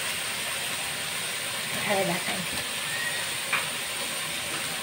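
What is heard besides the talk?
drumstick flowers with vegetables frying in pan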